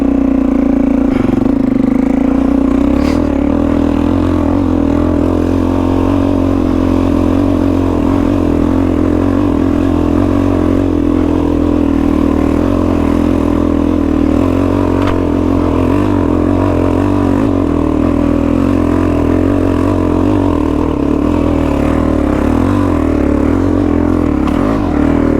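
A Suzuki DRZ400E dual sport motorcycle climbing a steep hill, its engine droning loud and close in a sustained, steady hum with slight rises in revs throughout and no talking.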